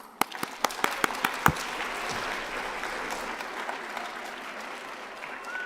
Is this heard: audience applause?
yes